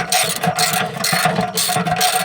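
A ratchet wrench tightening a bolt on a Corvette C4 starter: a continuous run of rapid, close clicking with small uneven pauses, loud and alone.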